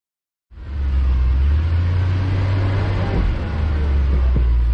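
Restored Jeep CJ-5 engine starts and runs loud and close, a heavy low rumble that holds steady as it creeps along at crawling speed, with no talk over it.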